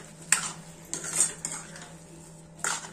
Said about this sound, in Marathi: आता मिक्स करून याच्यामध्ये साखर टाकून घेऊया.